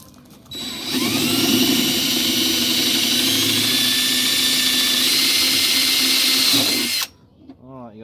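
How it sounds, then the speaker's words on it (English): A power drill bores a hole through a part so a long black bolt can pass through, running up to a steady high whine for about six seconds close by before stopping abruptly. "you got to drill out that little bit for your long black bolt to go through"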